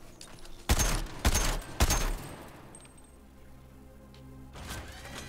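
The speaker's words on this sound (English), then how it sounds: "I think a little focused fire on that generator up top could get it open." Gunfire aimed at a generator during a lockdown in the Suicide Squad: Kill the Justice League video game: three loud, close bursts of shots, then a quieter stretch of mechanical hum and whirring before the noise rises again.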